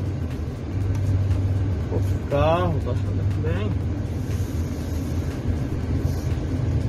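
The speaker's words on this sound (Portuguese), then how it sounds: "Tem muito carro, porque hoje é sexta-feira também." Cars pass along a busy street on a Friday in Vila Velha, a continuous traffic rumble with one vehicle swelling past in the middle, while a person talks over the noise.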